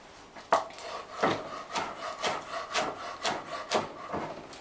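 A kitchen knife chops food on a wooden cutting board in a cooking class, with about seven evenly spaced, crisp thuds close by, one after another, and no talking.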